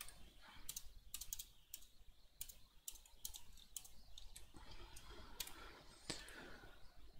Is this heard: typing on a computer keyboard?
yes